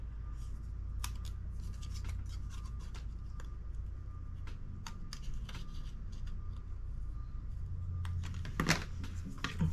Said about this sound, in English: I did cut these apart.